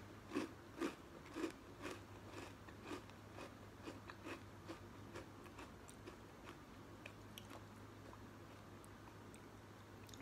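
Crunching rainbow sprinkle donut cereal soaked in milk, heard as close, quiet, crisp bites and chews repeating steadily over a low steady hum, with no talking.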